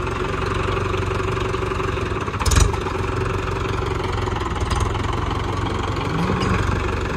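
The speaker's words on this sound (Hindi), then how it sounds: "ट्रैक्टर चला रहा है" Tractor engine running steadily while sowing wheat with a seed drill in a farm field, a continuous loud mechanical drone with a brief louder surge partway through and no talk.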